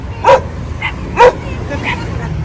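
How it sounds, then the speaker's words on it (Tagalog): Several dogs bark at a home, two sharp nearby barks with a few fainter yips between them, while a person speaks nearby. "Ang dami mong aso."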